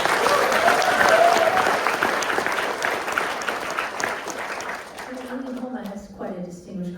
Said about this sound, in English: One more round of applause for both of them.